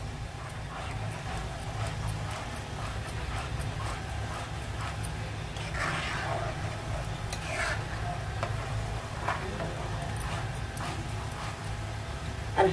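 Mango mixture for mango sewai being stirred in a pan over a high flame, a steady scraping churn with a low sizzling hiss running continuously underneath, close and moderately loud, with no talking.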